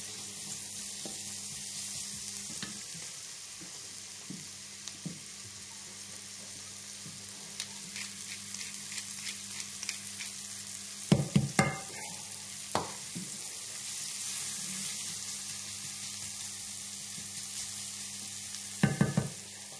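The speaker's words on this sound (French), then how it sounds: "j'ai démarré à four à feu moyen, hein, c'est juste pour faire revenir ces éléments-là sans les colorer" Garlic and aromatics sautéing gently in a pan over medium heat for beef lasagne sauce, a soft steady sizzle with occasional sharp clatters of a utensil stirring against the pan.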